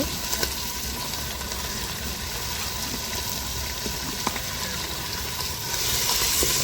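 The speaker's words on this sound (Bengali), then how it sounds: "ভালো করে আদা রসুনটা ভাজা ভাজা করে নেব।" Ginger garlic paste frying with beef in a pan, giving a steady, loud, close sizzle that holds evenly throughout, with a few faint clicks and no voices.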